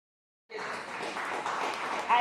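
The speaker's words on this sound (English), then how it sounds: "A round of applause again," Conference audience applauding at a startup event, clapping that starts abruptly after a moment of silence and continues at a steady moderate level, with some voices mixed in.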